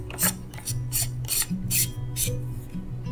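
A battery is screwed into the base of a Zhiyun Crane v2 gimbal, making a series of short, rhythmic rasping scrapes from the threads. Each twist sounds close and clear, with no voices.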